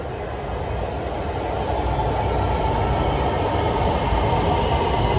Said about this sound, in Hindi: वो देखिए पीछे ट्रेन आ गई है